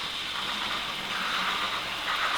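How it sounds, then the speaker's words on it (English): Model train coaches from a Hornby TT:120 "The Easterner" set grinding around a track curve, a steady near hiss and squeal of wheel resistance with no clear beat, holding at even loudness throughout. "So every time they hit the curve, you'll hear that noise."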